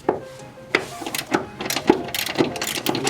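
Ratchet wrench loosening a 17 mm transmission mount bolt on a 1994 Toyota Corolla with a 7A-FE engine: a few close, sharp clicking and creaking strokes in an uneven rhythm, some heavier thuds as the bolt breaks free.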